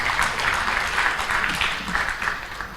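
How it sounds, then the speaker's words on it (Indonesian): Audience at a Partai Berkarya national coordination meeting claps steadily for newly elected regional legislators, a dense, even patter of many hands at moderate distance with no voices over it. "Tepuk tangan."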